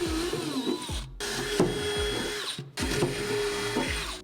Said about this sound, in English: I can't drill out these holes with this solenoid in the way